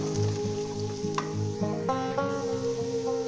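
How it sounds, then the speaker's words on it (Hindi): Chopped garlic sizzles steadily in hot oil with onion in a pan, a continuous close frying hiss with occasional stirring clicks and scrapes, no talking. "ये ऐड कर देंगे और इसको भी हम भुनाई कर लेते हैं ताकि इसका कच्चापन दूर हो जाए"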